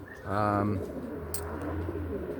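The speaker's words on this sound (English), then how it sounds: "enjoy your pigeons" Young racing pigeons coo close by, one clear throaty coo rising and falling over roughly half a second, then a low steady background hum.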